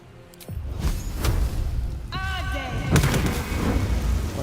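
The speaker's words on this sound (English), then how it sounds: "Fireball jutsu." A fireball attack in a video game bursts out in a loud roar with whooshing, explosive rumbles and a bright rising tonal sweep, layered over continuous game noise.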